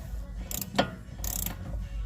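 A socket ratchet tightens a bushing press on an 06 Dodge Magnum front control arm, giving two short bursts of clicking with a metallic knock between them, close and fairly quiet.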